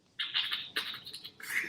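A voice imitates a bird, producing a quick run of bright, high chirps and squawks in short bursts, moderately close and alone for under two seconds.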